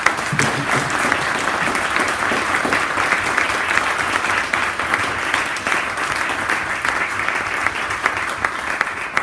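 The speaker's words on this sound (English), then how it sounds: "Let's give the panel another round of applause" Sustained audience applause for a panel at a 9/11 memorial discussion, steady and dense clapping from a sizable crowd holding at an even level for the whole stretch.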